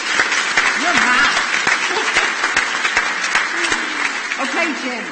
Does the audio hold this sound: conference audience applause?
yes